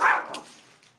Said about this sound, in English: both my dogs, chasing my cat.